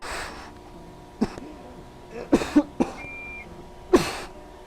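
Someone coughing in a dark Backrooms setting, several short harsh coughs and throat-clearing bursts spread irregularly, fairly close against a quiet hum.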